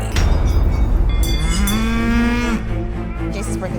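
Cows mooing loudly at close range, one long low drawn-out moo rising out of a busy outdoor crowd and wind noise.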